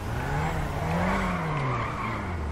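A GTR drifting on a drift track in GTA 5, a steady sustained tire skid and squeal with the engine note rising and falling, loud and close, no talking.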